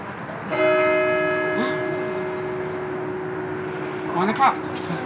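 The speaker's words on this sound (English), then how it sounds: "The church is there with the bells ringing" Church bells ring outdoors with long sustained tones that hang in the air, fairly loud and steady, while people talk nearby and a brief clatter comes near the end.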